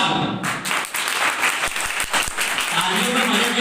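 Audience at a college NSS camp applauds, a dense wash of clapping, loud and close, with a few distinct taps standing out near the end.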